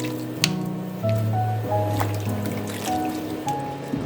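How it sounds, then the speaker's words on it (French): A homemade pot-au-feu of meat and vegetables simmering gently on low heat, giving soft bubbling, squishing and dripping sounds with a few faint tonal clinks, close and steady throughout. "On va laisser mijoter, cuire à feu doux."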